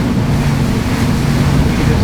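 Offshore ocean swell running against the Brabus Shadow 900 powerboat as it drops into troughs, a steady, loud low rumble of water and hull with wind buffeting the microphone throughout.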